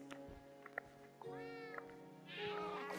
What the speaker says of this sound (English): I didn't even know where the cat was then.